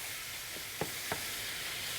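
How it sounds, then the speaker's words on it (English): About 1.5 pounds of ground beef sizzles steadily in a large sauté pan, a close, continuous hiss with a few faint scraping clicks from a spoon stirring the meat. "let's go ahead and get some ground beef in a large saute pan"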